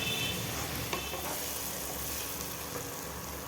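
Chopped carrots, capsicum and peas fry steadily in a pan for egg rice, a continuous close sizzle with occasional faint stirring scrapes and no talking.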